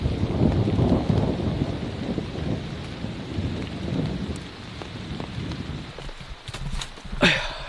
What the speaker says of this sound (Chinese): 雨终于小点了，但不过现在还在打雷，天色也很阴郁。